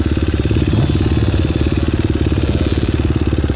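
An enduro motorcycle engine chugs steadily and close by, its loud, rhythmic low pulsing continuing without a break and with no talk over it.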